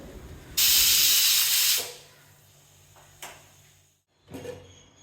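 A pressure cooker whistle: a loud burst of steam hissing sharply for about a second, then softer clinks and a brief second hiss near the end.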